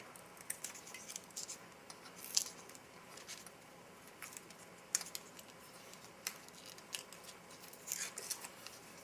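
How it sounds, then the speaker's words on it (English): Scissors snip a spout into a plastic MRE peanut butter packet from a 2004 vegetarian menu, giving a few short, crisp close cuts over quiet room noise. "I'm cutting a little spout that I like to make out of there."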